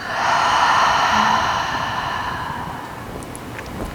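A deep, drawn-out exhale during yoga breathing, close and fairly loud, swelling at the start and slowly tapering off over several seconds with no speech.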